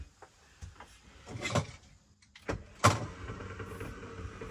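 An expensive folding bed ladder is lowered down its track, giving quiet intermittent sliding and scraping with a few sharp knocks as it lands.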